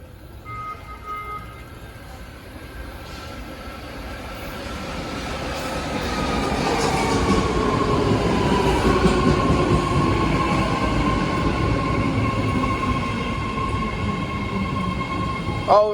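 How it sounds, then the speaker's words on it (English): An eight-car BART fleet-of-the-future Richmond train pulls into a station platform, a low rumble swelling louder as it nears, with steady whining tones and faint wheel noise. "It's a Richmond Train, approaching platform number 2 at Southway Haywood Station."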